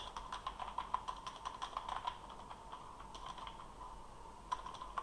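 Keys on a computer keyboard tapped in a quick, uneven run while text is entered in MS Word, soft close clicks that pause briefly and then resume, with no talking.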